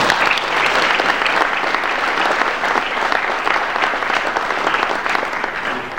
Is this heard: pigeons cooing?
no